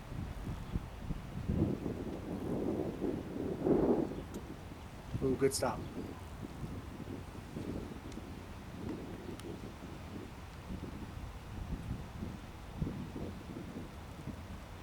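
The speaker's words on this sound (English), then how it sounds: "it's also starting to get windy" Wind gusts across an outdoor disc golf course, a low, blustery rumble buffeting the microphone, with a voice briefly speaking over it.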